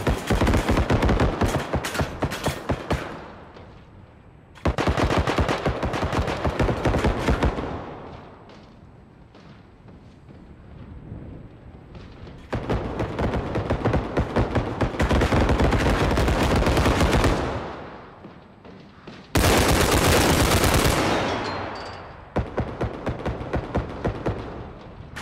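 Automatic gunfire from a weapon in the video game Bodycam comes in loud sustained bursts, several long rattling volleys separated by short quiet gaps, close and harsh with no talking over it.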